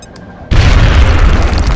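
A grenade explosion in the video game XCOM: Enemy Unknown, a sudden loud boom after a brief quiet lead-in, then a full, heavy rumble that holds steady to the end.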